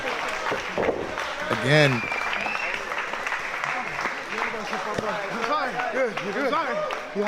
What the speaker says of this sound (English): And you hear the crowd now.